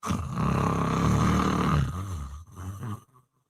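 A person imitates snoring, a long, rumbling snoring noise, then a few shorter snorts before falling silent.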